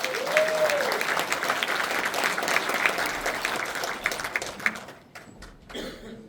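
An audience at a National Assembly member's political report meeting in Cheongju claps steadily for several seconds, a dense, continuous applause that thins out and stops near the end.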